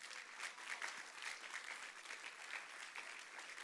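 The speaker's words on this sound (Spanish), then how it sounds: "Un aplauso al Señor" A church congregation applauds with a steady, dense wash of clapping from many hands, sustained and even, heard from a distance at low level.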